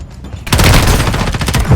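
Rapid bursts of automatic gunfire from the mobile shooter Call of Duty Warzone Mobile, loud and close, starting sharply after a brief quieter moment and continuing as a dense, sustained volley with heavy low-end thumps.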